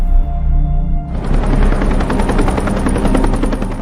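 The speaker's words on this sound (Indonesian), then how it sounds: "helikopter itu kembali lagi dan akan menyelamatkan mereka berdua" A helicopter roars close by, its rotor chopping in a fast steady rhythm that cuts in loudly after a low rumble and keeps going.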